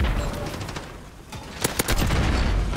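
Gunfire from a first-person shooter video game, with an MP5 in play: a few sharp, loud shots crack in quick bursts over steady game background noise.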